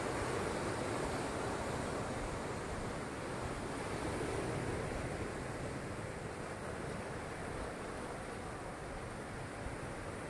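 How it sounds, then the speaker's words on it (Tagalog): Strong surf after a typhoon rolls continuously against the shore by the damaged pier on Limasawa Island, Southern Leyte, a faint, steady wash of waves mixed with wind noise on the microphone. "So ito yung dalampasigan nila guys, na malalakas ang alon"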